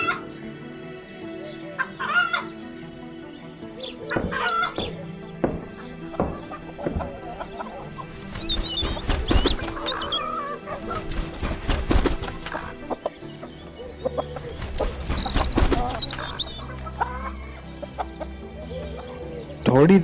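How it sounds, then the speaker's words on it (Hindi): A hen clucks outside a farmhouse, giving repeated loud squawks and clucks mixed with scattered knocks and clip-clop-like thuds that suggest an animated farm scene, all fairly close and without talking. "उसको घर के बाहर से मुर्गी के बोलने की आवाज सुनाई दी।"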